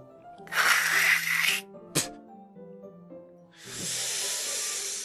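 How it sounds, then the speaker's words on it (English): Heavy breathing in the video game Doki Doki Literature Club comes as a long hissing exhale, a short sharp breath, then another drawn-out airy breath, heard close over a low, sustained musical drone. "What's that noise? Heavy breathing."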